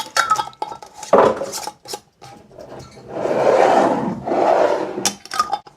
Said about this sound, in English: we are going to put the rings and the lids on.